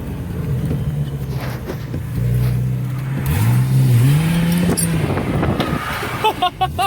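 A car that has had a manual transmission swap revs its engine, a rough rumble climbing in pitch and loudness before cutting off, with people talking over it.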